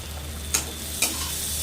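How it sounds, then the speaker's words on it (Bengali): Chopped onion, garlic and green chilli sizzle softly in a pan under a steady low hum, with two short stirring scrapes about half a second apart. "উপকরণগুলোকে ভালো করে নাড়াচাড়া করে নিচ্ছি।"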